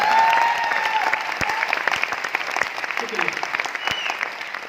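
Seminar audience breaks into sustained applause that fills the hall, dense and steady clapping with a voice speaking over it near the start and cheers scattered through.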